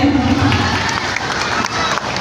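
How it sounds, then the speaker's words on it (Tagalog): Applause from a seated crowd at a daycare moving-up ceremony: steady, dense clapping fills the whole stretch at even loudness, with a low murmur of voices beneath it. "Palakpak po natin."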